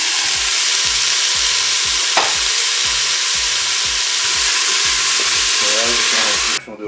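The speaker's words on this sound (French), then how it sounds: "ça fait 1 minute que mon mini chorizo est en train de dorer. Je vais rajouter maintenant mes légumes" Mini chorizo and vegetables fry in a Cookeo multicooker with a steady, loud, close sizzle, broken by a rhythmic scraping of stirring.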